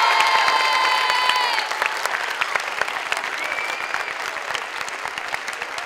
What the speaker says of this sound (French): je voudrais que vous l'applaudissiez, mais vraiment de tout votre cœur